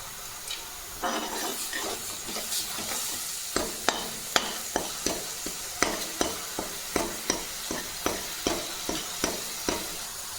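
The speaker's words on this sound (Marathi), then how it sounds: "तो छान गुलाबी कलर येईपर्यंत छान परतू द्यायचं" Onion paste sautés in oil in a pan for restaurant-style rajma curry, giving a steady low sizzle broken by a regular series of sharp scraping stirs from a ladle against the pan, close and moderately loud.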